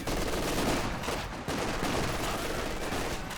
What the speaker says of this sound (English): And here come the mortar shells.